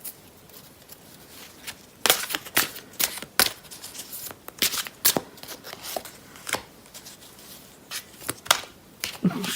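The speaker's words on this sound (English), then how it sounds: "I'm just going to muddle up the cards a little" Tarot cards shuffled and muddled by hand at close range, a quiet patter of sharp riffles and slaps in irregular bursts, with soft breathy pauses between.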